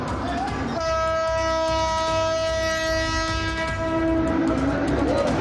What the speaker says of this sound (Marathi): लोकलमधून मोटरमनकडनं वारंवार या ठिकाणी हॉर्न वाजवला जात होता